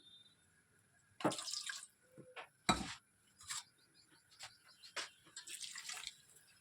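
Water is poured into a cooking pot of cauliflower, tomato and ground chillies in short, uneven splashes and trickles, close by and fairly quiet.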